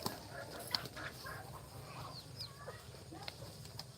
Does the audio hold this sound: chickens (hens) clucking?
yes